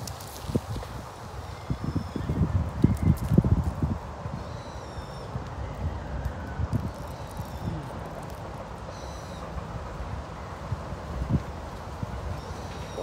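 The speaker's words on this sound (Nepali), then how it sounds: "हावा नि चलिरहेछ" Wind blows outdoors in Kasai Rinkai Park, Japan, in the evening, a steady low rumble buffeting the microphone with stronger gusts early on and faint high chirps above.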